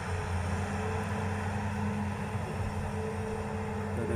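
An excavator's six-cylinder diesel engine runs at a steady idle, a low continuous rumble with a faint hum, fairly quiet and unbroken.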